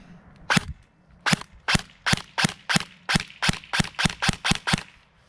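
VFC MP7 airsoft electric gun fired in semi-auto, about a dozen sharp, close mechanical snaps in a quick, fairly even rhythm, with no talk.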